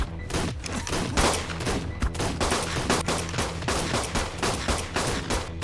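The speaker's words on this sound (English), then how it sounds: "armed them all with a gun, and we began shooting back" Sustained volleys of gunfire from several guns in Ark Survival Ascended, dense overlapping shots and bursts running continuously and loud throughout, with no talk.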